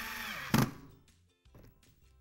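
A screw is driven into a wooden floating shelf held by a clamp, giving one sharp, loud burst of a power driver followed by fainter knocks and handling sounds.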